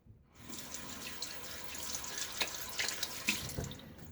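Tap water runs steadily into a sink for rinsing after a shave with a Gillette Tech razor, a continuous splashing hiss with a few brighter drips and splats, fairly close.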